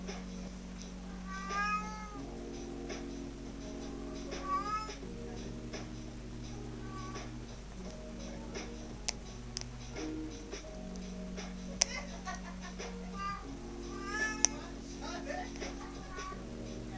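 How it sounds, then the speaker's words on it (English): A house cat meows several times, high, wavering cries scattered across the stretch, faint and partly under a person talking quietly, over a low steady hum. "The cat's going meow like it's not already been giving attention"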